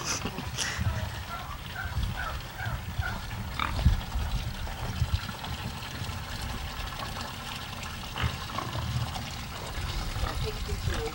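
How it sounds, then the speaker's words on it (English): Pigs drink water at a trough, with a steady trickle and sloshing of water, occasional grunts and snuffles, and people's voices close by throughout. "Come and take a picture of these pigs when they're getting their drink."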